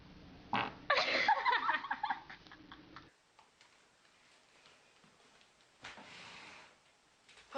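A loud, sputtering fart near the start fades into quiet, then a brief, fainter second burst follows later, with no talking in between.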